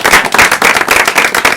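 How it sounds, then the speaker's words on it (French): A studio audience at a televised political talk show claps in dense, continuous applause, loud and close throughout. "On devrait applaudir pour sa profession de foi."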